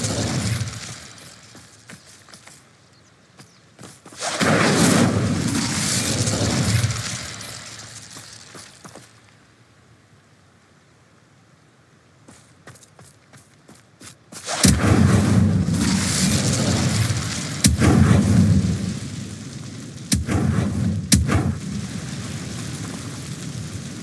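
An Incendio fire spell in Hogwarts Legacy roars out in loud, broad whooshing bursts that crackle and fade, returning twice with a quieter lull between them, with no talking.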